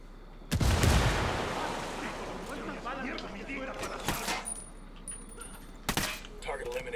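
A grenade blast in the tactical shooter Ghost Recon Wildlands: a loud burst near the start rumbles and fades, followed by a couple of sharper gunfire-like cracks, with speech between them.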